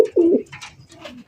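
A pigeon at a fancy pigeon market gives a close, resonant coo, a low bubbling call followed by softer throaty murmurs.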